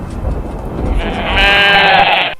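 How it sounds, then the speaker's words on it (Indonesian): A goat gives one loud, drawn-out bleat in the second half, rising out of a rumbly background noise. "Suara kambing"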